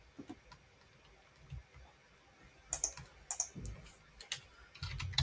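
Close, crisp computer keyboard typing in irregular bursts of clicks, sparse at first and then quicker and denser toward the end, with no voices.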